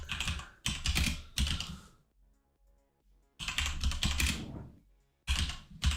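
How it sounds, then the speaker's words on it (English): A loud computer keyboard being typed on, close to the microphone, in three bursts of rapid clacking keystrokes separated by short quiet pauses. "my keyboard is so loud"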